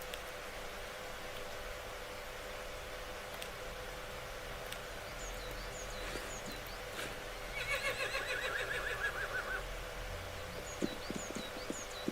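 A horse whinnies in a quiet scene in the video game Rising World, with faint hoof clops and bird chirps in the background.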